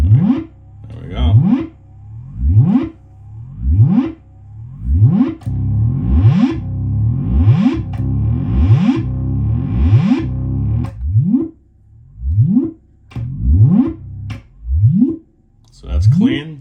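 An electric guitar plays through the clean channel of a Marshall JVM 205H amp. Repeated picked notes each bend sharply upward, with a wobbly, effected tone and short gaps between phrases.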